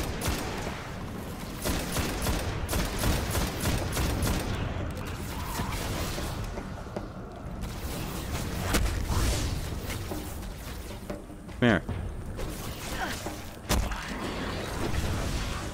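Explosions and gunfire from the video game Destiny fill the mix with dense, continuous battle noise, rumbling blasts and sharp bursts, including a loud hit near the end.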